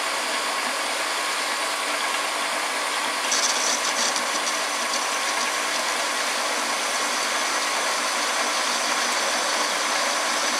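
A homemade lathe parts off metal with a factory-made cutting tool taking a 2.5 mm cut, giving a steady, dense mechanical whir and hiss with faint ratcheting chatter throughout and no talk.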